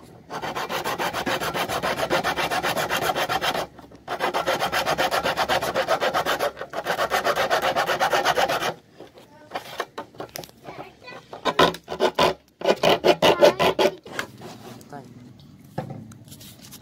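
A square opening is cut into a plastic drum with steady rasping, sawing strokes in long bursts, then shorter choppy scraping and handling noises; people talk in between.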